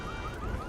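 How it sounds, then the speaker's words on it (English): A car alarm blares in the video game Deus Ex: Mankind Divided, a brief steady electronic tone heard close and unbroken for under a second. "I'm gonna set your car alarm off"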